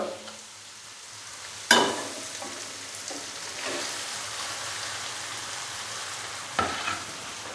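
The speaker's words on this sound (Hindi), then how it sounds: "अभी मैंने इसको हाई फ्लेम पे 1 से 2 मिनट के लिए बहुत ही अच्छे से भून लिया है। तो अभी मैं इसके अंदर बॉईल किए हुए चावल डालूंगा।" Boiled rice being stir-fried in a pan over a high flame for garlic rice, a steady crackly sizzle with sharp scraping stirs at two points, fairly faint and close, no talk.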